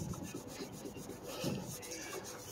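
Hand rubbing spray paint off a car's surface, a close, faint, steady scrubbing and rasping friction with repeated strokes, no talking.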